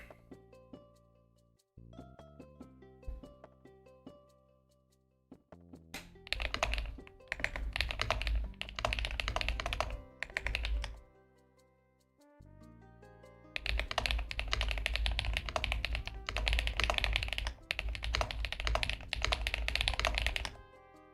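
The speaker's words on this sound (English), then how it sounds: "Do you like my keyboard, guys?" A thocky mechanical computer keyboard clacks under fast typing, bursts of dense, deep keystrokes separated by short pauses, close and loud, with faint musical tones in the background early on.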